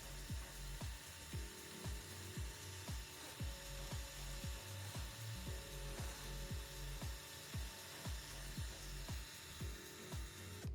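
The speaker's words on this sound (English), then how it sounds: "press the drill trigger fully, ensuring the drill is straight" A power drill bores into wood, whirring steadily with a rapid, regular ratcheting clatter running throughout, loud and close, with no voices.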